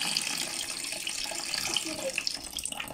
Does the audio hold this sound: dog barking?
no